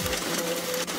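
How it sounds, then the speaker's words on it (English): An offset printing press runs with a dense, continuous mechanical hum and rapid clatter, close and loud, with no voices. "It's the sound of an offset printer."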